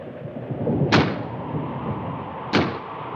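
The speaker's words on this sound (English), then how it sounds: "That's just the wind banging a door." A door banged by the wind in a 1959 film, two sharp, loud wooden bangs about a second and a half apart over a steady low rumble.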